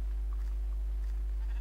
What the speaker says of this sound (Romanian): Ok, vine oaie după mine.